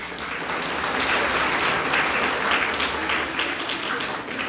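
Sustained audience applause at a Manusmriti-burning cultural event in India, a dense crackling wash of many hands clapping steadily and fairly loudly throughout, with a faint voice briefly underneath.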